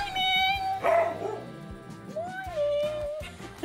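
A frightened, trapped dog yelps and whimpers in high, wavering cries, fairly close, mixed with a musical background and other sounds.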